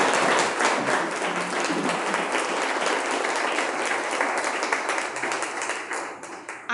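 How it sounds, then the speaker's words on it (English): Audience claps steadily for several seconds at a community roundtable on gun violence, a dense, even wash of applause that tapers slightly near the end, with no talking over it. "Let's give Shantae and her team a round of applause"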